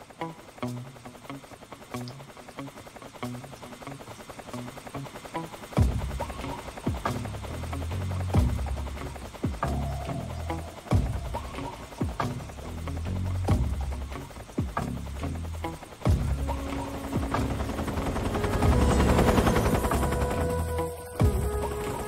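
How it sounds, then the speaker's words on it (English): In the video game Metal Gear Solid 3, a helicopter's rotor throbs steadily under repeated sharp gunshot bursts and game effects. The mix stays moderately loud and swells toward the end, with no talking. "once a helicopter's gone away, then I should be alright"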